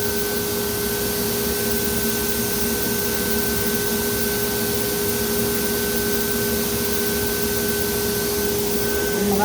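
A vacuum pump on a banner heat welder table runs with a steady, loud mechanical hum and constant hiss, holding an even level throughout.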